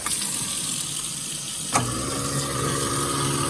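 A Waste King L-8000 1 HP garbage disposal runs steadily under flowing water, with a sharp knock partway through after which the motor hum deepens and carries on evenly; no one speaks.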